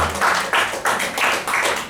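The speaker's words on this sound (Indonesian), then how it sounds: "Tepuk tangan dulu buat saya." Audience applause in a talk or seminar hall, a broadband wash of clapping in repeated swells across the whole moment, fairly close and steady with no voices over it.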